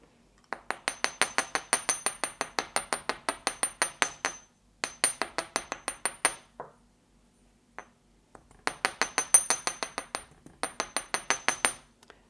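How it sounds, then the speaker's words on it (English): Rapid metallic hammer taps flattening metal earring hoops ring out in quick bursts of steady blows, bright and close, with short pauses between the runs of strikes. "I'm going to hammer them before I finish them"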